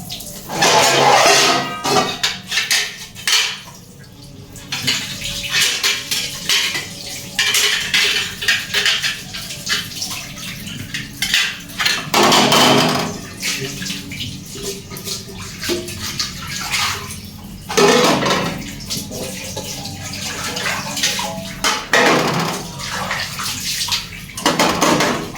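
Dishes are scrubbed and rinsed in a home kitchen, with repeated bursts of running tap water and clinking pots, plates and cutlery. The sound is close and busy, with no talking.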